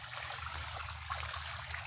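Irrigation water flows steadily into a sugarcane field, a continuous trickling, streaming wash heard alone with no talk.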